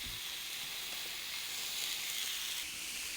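Frozen Angus beef burgers sizzle steadily on a covered indoor grill, a close, even hiss of frying fat that holds throughout with no other sounds and no voices.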